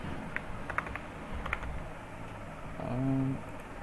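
Computer keys clatter as C++ code is typed. The keystrokes are light and scattered at a moderate pace over a low background hum, and a short tonal beep sounds near the end.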